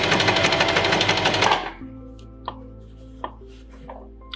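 A sewing machine runs fast on fabric for about a second and a half, then stops, leaving faint scattered clicks and taps against a low hum.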